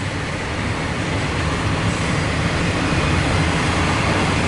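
Norfolk Southern 97Z welded-rail train rolling past close by, a steady loud broadband rumble and rail roar that holds unbroken throughout with no talk.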